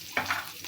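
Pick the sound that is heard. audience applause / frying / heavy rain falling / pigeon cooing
frying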